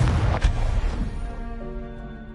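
Confringo explosive spell in the video game Hogwarts Legacy, a loud close blast with a sharp crack that decays into a long rumbling tail.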